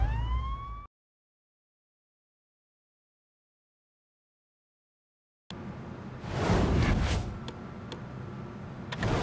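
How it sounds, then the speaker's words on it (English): A police car siren from the LA Cops video game wails briefly at the start, then cuts to silence before noisy game action picks up. "Put the siren on."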